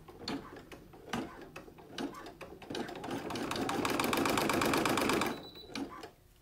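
An embroidery machine stitching a 5x7 in-the-hoop book design runs in a fast, rhythmic ticking chatter that builds to a steady loud whir, then stops, with quieter clicks around it.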